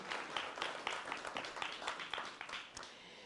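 Church congregation at a Sunday service gives a performer a round of applause, steady soft clapping heard from a distance, fading slightly toward the end.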